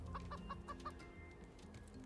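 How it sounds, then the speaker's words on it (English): Chickens in the video game Raft give a quick run of five soft clucks, then fall back into a faint murmur of low game ambience, quiet and close. "You like your extra chicken friends?"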